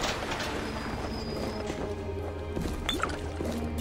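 Water pouring in the game BioShock Remastered, a steady rushing stream under game sounds and a faint clank, moderately loud and continuous.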